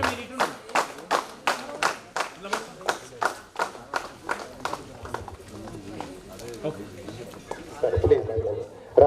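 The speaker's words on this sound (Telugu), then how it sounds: "సార్ క్లాప్స్ గట్టిగా ఫ్రెండ్స్" At a school reunion get-together, a few people clap in a slow, even rhythm, distinct separate claps that fade into quieter scattered clapping and background chatter, with a voice rising near the end.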